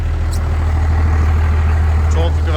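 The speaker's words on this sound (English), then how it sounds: "12 valve Cummins. Definitely in the running for one of the best engines ever made. It sounds fantastic." A 1992 Dodge D350 ramp truck's 12-valve Cummins diesel idling up close, a loud, steady low rumble with an even rhythmic clatter that holds throughout.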